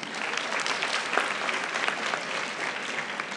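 Sustained audience applause at an investment seminar, dense and even clapping from a large crowd throughout with no break.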